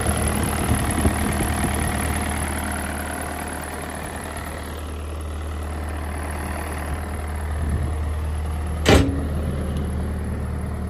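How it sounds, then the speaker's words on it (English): The Kubota diesel engine of a 2007 Bobcat 331 mini excavator runs at a steady, smooth idle close by, with one brief sharp click near the end. "Zero blow-by Kubota diesel. Runs smooth and clean."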